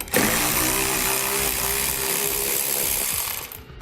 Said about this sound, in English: Grab a 10mm socket and pull that out